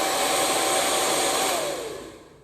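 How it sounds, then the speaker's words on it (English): A hair dryer blowing hair gives a loud, steady close-up whoosh that drops in pitch and fades as it powers down near the end, with no talking. "I was thinking of blow drying my hair"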